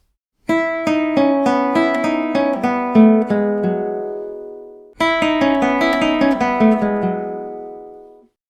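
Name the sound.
classical guitar campanella technique, bell-like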